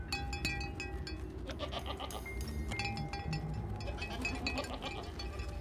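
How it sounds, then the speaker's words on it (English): Goats bleat repeatedly while moving across high ground, with a bell clinking among them, close by and fairly loud over a steady background rumble. "We started to hear goats moving across the high ground,"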